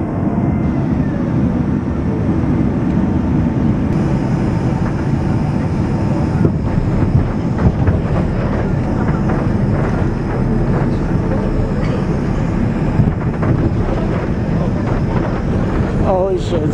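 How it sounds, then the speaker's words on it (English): An airplane landing on a clear day in New York with a bouncy touchdown: a loud, steady cabin roar with low rumble and jolting thuds, heard from inside the aircraft, with some talk under it. "it's a bouncy landing"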